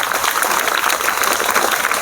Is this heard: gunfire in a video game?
no